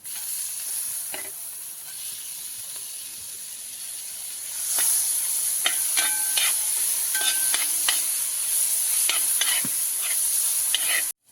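Onion, green chilli and tomato sautéing in a pan for masala puttu, with a quiet steady sizzle that steps up louder near the midpoint, broken by scattered clinks and scrapes of stirring.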